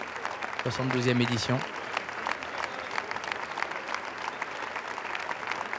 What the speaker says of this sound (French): applaudis comme il se doit par les festivaliers